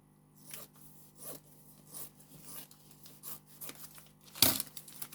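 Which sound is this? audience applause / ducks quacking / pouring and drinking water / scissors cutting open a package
scissors cutting open a package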